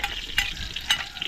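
Ginger and onion sautéing in a pan, a steady close hiss of frying with two brief louder scraping stirs.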